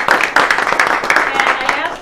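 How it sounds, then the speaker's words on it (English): Applause for Marcia at a political gathering, heard as a modest round of clapping with distinct individual claps from a small crowd, fairly near, under and alongside a speaking voice. "So please, a round of applause for Marcia."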